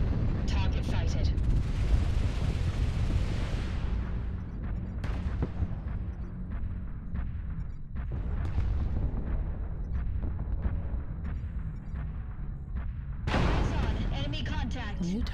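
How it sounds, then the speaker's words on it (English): Artillery strike explosions in MechWarrior Online roll as dense, sustained low rumbling booms with repeated impacts, loud throughout, ending in a sharp burst of blasts. "Artillery strike activated."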